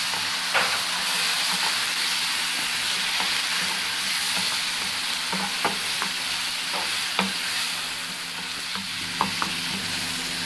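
Tomato fries with browned onion for shakshuka, a steady loud sizzle in the pan broken by small taps and scrapes of stirring, with no one speaking.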